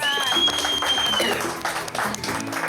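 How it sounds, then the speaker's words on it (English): A studio audience applauds a children's spelling champion on an educational quiz show, with dense, steady clapping throughout, fairly loud and close, and a voice speaking briefly over it. "Another round of applause"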